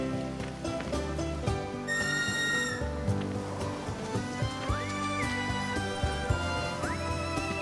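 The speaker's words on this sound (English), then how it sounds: "Remember now, just give your whistle a blow." In Final Fantasy VII Rebirth, a whistle is blown to call a chocobo. Bright whistle tones rise and hold, sounding twice, over steady game music and hoof-like clatter.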